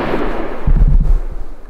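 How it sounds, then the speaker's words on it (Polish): A single gunshot rings out during a driven hunt in the Sudeten mountains in Poland, a sharp report that booms briefly and then fades, sounding fairly close and loud with no talking. "Pierwszy strzał."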